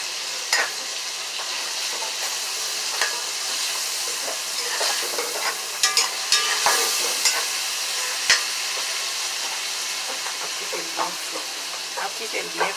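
Vegetables and spices fry and sizzle in a pot while being stirred, giving a loud, steady hiss broken by repeated scraping and clacking of the spoon against the pot.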